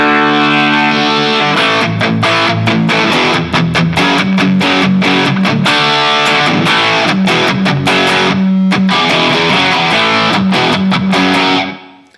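Loud, sustained electric guitar feedback through a small amp built into the guitar, distorted chords ringing and howling with brief choppy breaks before fading out.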